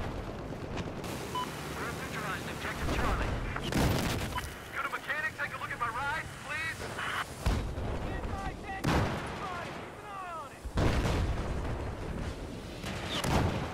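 Tank gunfire and explosions in the Battlefield 4 video game, with repeated loud booms and blasts spread across the clip and players talking over the battle.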